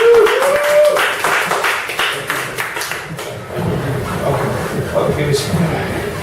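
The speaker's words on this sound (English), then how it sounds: "we all have to stand up and applaud and make as much noise as possible for our great speaker tonight" An audience applauds and cheers as a guest speaker is welcomed at a startup fireside chat in Cardiff, a dense wash of claps and whoops with voices mixed in, dipping briefly midway before swelling again.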